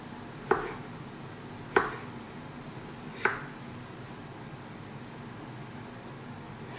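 A knife chops potatoes into strips on a cutting board for moussaka, three sharp, well-spaced thuds about a second apart against quiet kitchen background.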